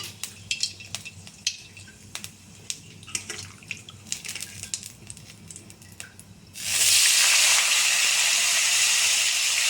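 Light clinks and scrapes of cookware come first, then a loud, steady sizzle and hiss bursts up as black cumin and cumin hit hot oil, continuing close by.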